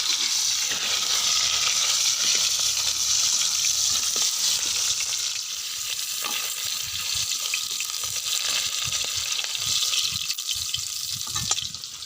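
Elephant apple pieces fry in a pan for mutton curry, giving a steady sizzle and crackle with occasional stirring clinks, close and fairly loud, with nobody talking.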